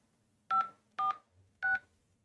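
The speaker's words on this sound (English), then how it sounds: "please enter the following number on your phone's touchtone pad" Three touch-tone keypad beeps from a phone, evenly spaced short dual-tone pulses, clear and alone against silence.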